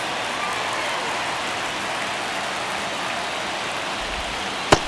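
A baseball stadium crowd in MLB The Show 24 during a tense ninth inning makes a steady, broad roar of ambient noise that holds at an even level, with a sharp click near the end.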